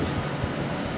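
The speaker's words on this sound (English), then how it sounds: "Which train was that?" A train at London Euston Station gives a steady, loud rumbling roar throughout the brief moment, with no voices.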